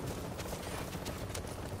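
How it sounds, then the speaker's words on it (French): Pump-action shotgun blasts from The Division's Dark Zone, a few quiet booming shots set in a dense wash of distant gunfire and battle noise. "Au fusil à pompe"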